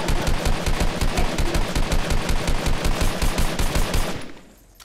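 Rapid, continuous automatic gunfire in the Fortnite video game, loud and evenly rhythmic for about four seconds before cutting off and fading to quiet.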